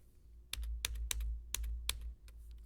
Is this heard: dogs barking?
no